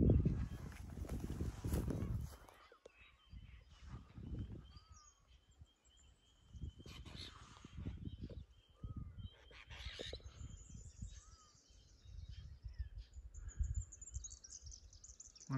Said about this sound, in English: the apostle birds are getting very friendly. Great bird, very, very noisy.